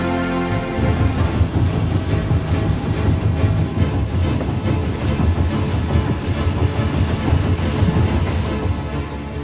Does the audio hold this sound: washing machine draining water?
no